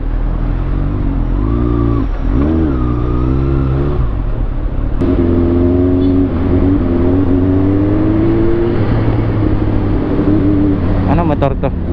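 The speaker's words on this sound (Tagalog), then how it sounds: "Ano motor to?" Motor vehicles passing on a city road heard from a moving motorcycle, with a steady loud engine drone, a rising then falling pass-by whine around the middle and a sharp pitch sweep near the end.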